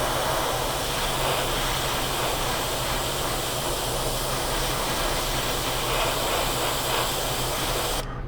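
An airbrush sprays paint over black-inked panel lines on a scale model, giving a loud, continuous airy hiss that holds steady throughout and cuts off abruptly at the very end.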